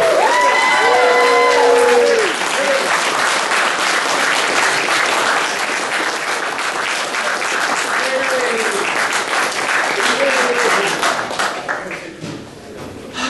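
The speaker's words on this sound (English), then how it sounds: "let's give a nice round of applause" A campaign rally crowd for a special election state senate candidate erupts into sustained applause and cheering, dense clapping with whoops and shouted voices, loud and continuous, tapering near the end.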